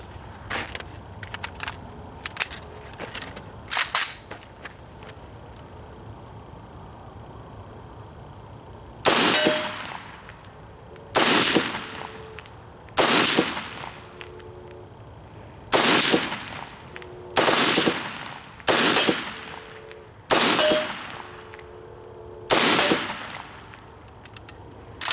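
An RPK-74 light machine gun is fired on an outdoor range. A few scattered distant cracks are followed by eight loud, sharp full bursts that come at roughly even intervals and are separated by short pauses.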